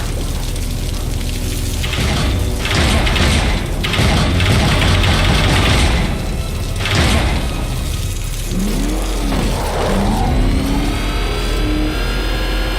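A car engine in Batman Arkham Knight roars and revs loudly and continuously, surging up and down in pitch with rising whines toward the end, up front with no voices.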